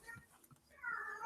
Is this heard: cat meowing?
yes